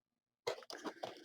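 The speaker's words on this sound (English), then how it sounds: "That was the dog coughing" A dog coughs a few times in quick, faint, close bursts after a moment of silence, in a workshop beside a 3D printer.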